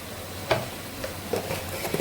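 Chili powder dropping into a hot frying pan while spices cook for a home-style dish, with a steady sizzle and a few soft stirring scrapes, close and moderately loud.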